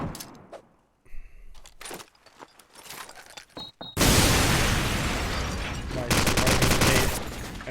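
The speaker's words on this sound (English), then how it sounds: "And the car explosion." A car blows up in a Call of Duty 4 Promod match: a loud, sustained blast that follows scattered shots and clatter, then settles into a rumbling roar with bursts of gunfire.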